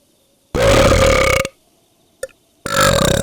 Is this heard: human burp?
yes